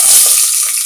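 Whole spices and a bay leaf fry in hot oil for jackfruit biryani, making a loud, close, continuous crackling sizzle that eases slightly toward the end.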